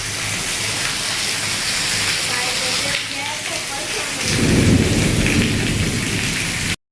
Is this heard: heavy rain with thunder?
yes